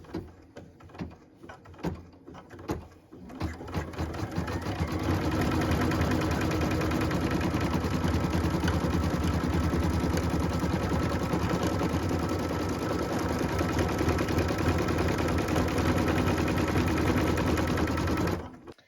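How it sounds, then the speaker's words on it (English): A sewing machine stitches a tack-down line through felt for a Christmas tree skirt, starting with a few short clicks and bursts, then running in one loud, steady, continuous whir for about fifteen seconds before stopping. "Slide under the presser foot, press it down so that it sticks to the wedge, and we can go ahead and stitch the tack down line."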